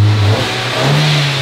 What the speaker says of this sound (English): Little rev.